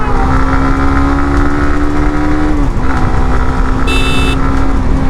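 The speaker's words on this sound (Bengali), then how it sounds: "বিয়ের গাড়ি যাচ্ছে" A wedding car drives past a rider on a wide road, its engine a steady loud drone with a brief high horn blast near the end, all mixed with constant road and wind noise.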